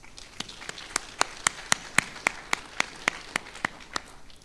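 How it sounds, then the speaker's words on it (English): At a US Air Force Test Pilot School graduation for a space test class, one nearby pair of hands claps at a steady, regular beat above a soft, distant bed of crowd applause. "Please join me in a round of applause for the efforts of Class 21-3."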